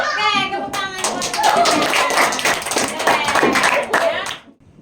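Schoolchildren clapping in a classroom, a burst of many hands with some children's voices mixed in, sustained for several seconds before stopping.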